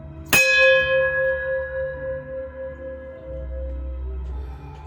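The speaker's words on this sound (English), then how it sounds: "Have to do it, the bell." A single bell is struck once, its clang opening into a long, sustained ringing decay that hangs over a low, steady rumble for several seconds.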